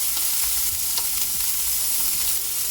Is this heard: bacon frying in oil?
yes